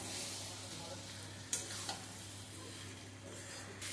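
Fried potato, pointed gourd and egg are stirred through sizzling oil-rich masala in a pan, with steady close frying hiss and a couple of sharp spoon scrapes against the pan.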